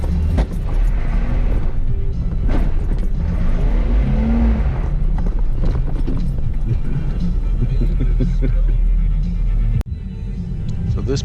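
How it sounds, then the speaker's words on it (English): Off-road vehicle working over rocky ledges in a quarry, tires spinning and engine rumbling loud and close throughout, with a sharp jolt near the end. "You can kind of hear the tires spinning in the background."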